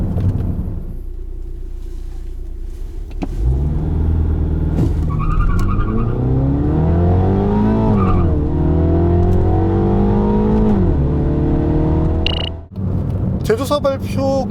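A 2019 MINI JCW Convertible accelerates hard from a standstill, its engine revving up loudly through several rising gear pulls with brief dips at each shift, heard from inside the car before easing off near the end.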